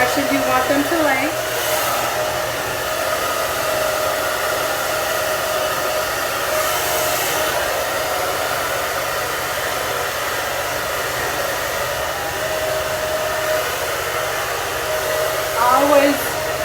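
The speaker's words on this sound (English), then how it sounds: "hair dryer on the outside of the cap." A hair dryer blows steadily and loudly on the outside of a synthetic bob wig cap, a close continuous airy roar lasting throughout with slight shifts as it moves, with no talk.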